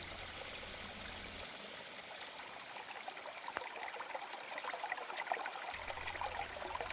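A babbling stream flows steadily nearby, water trickling and splashing over stones in a continuous, even rush.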